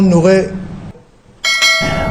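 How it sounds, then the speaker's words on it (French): A bright chime rings out briefly after a pause, loud and close, following a stretch of someone talking. "active la cloche de notification"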